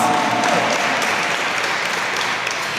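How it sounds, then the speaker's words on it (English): Applause at a Hispanic Heritage Month opening ceremony, an even, fairly loud burst of crowd clapping for a DJ that tapers slightly over a few seconds. "Give him a round of applause"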